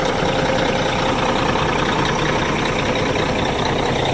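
A 2007 Peterbilt 357 dump truck with a red engine idles steadily nearby, a dense, even diesel rumble with no change in rhythm, building up air.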